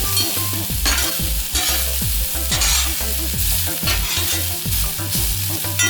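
Beef, asparagus and other vegetables stir-fry on a Hunsaker griddle set on a WSM smoker, with a constant loud sizzle broken by repeated rhythmic scraping strokes of a utensil across the metal.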